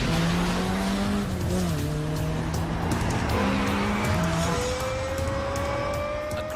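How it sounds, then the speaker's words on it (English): A Lexus LFA sports car with a high-revving V10 drives hard, its engine note climbing and shifting through rising tones, with a loud, continuous roar and some tire noise mixed in. "Aggressive, loud, agile. Highest revving V10 engine in a production car."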